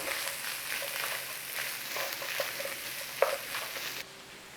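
Onions and peppers frying in a pan with a steady sizzle and a few stirring scrapes, close and fairly quiet, before the sound cuts off abruptly near the end.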